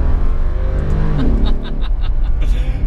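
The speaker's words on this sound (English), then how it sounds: "Just listen to the engine." Engine of a Brabus G700 Widestar, a heavily modified Mercedes G-Class SUV, revving with a steady low rumble and a rising roar midway, heard close and loud with no talk over it.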